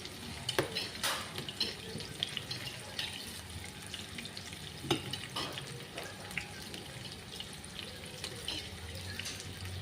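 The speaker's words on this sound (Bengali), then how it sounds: "পেঁয়াজটা ভাজা হতে হতে টমেটোটা কাটছি।" Onions fry in a pan for a drumstick vegetable curry, a soft, steady, watery sizzle with scattered light clatters, fairly faint and continuous.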